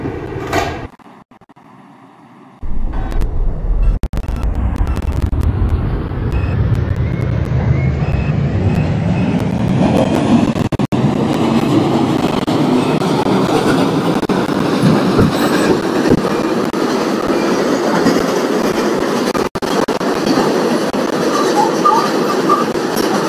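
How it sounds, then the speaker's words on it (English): An R142 subway train on the 5 local to Eastchester starts up and accelerates, its motor whine rising steadily in pitch over a loud rumbling roar that continues throughout, heard from inside the car. "This is an Eastchester bound 5 local train."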